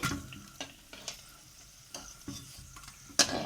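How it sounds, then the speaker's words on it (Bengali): Cabbage pakoras and fish fry in oil, a soft continuous sizzle punctuated by occasional scraping stirs and a sharper clatter near the end, close and fairly quiet with no talking. "দেখুন বন্ধুরা, এইভাবে আস্তে আস্তে ভেজে নেবেন"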